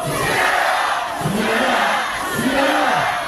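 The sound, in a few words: rally crowd shouting a slogan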